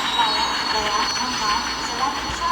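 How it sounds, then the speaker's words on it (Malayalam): A train rolls into Kanpur station with a loud, continuous rumble and a high metallic squeal from the wheels, heard close from on board. "നമ്മൾ ഓടിക്കുന്ന ട്രെയിൻ ഇതാ കാൺപൂരിലേക്ക് കയറുവാണ് പിടിച്ചിടാണ്ട്"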